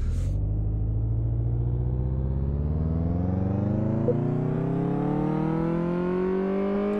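A car in Car Mechanic Simulator 2018, taken out on a test drive with bad brakes, pulls away and accelerates steadily. The engine drone climbs in pitch over several seconds, loud and close, with no talk.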